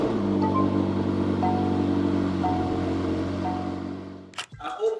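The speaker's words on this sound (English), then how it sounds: "I'm going to turn the car on, and then let's see how this car sounds." A 2018 McLaren 720S idles with a steady, loud engine drone, then near the end comes a sharp burst and blip as the revs jump up.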